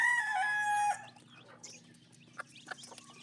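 Pet chickens, a brooding hen with her chicks, crowing and clucking close by, with a loud rooster crow in the first second, then sparse faint cheeps and clucks over a low steady hum.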